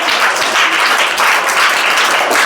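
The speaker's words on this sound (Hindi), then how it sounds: "तो उनके लिए भी एक बार जोरदार ताली बजा दिया जाए।" Enthusiastic applause from students and staff honoring a teacher at a school event, many hands clapping in a dense, steady burst at close range with no talking.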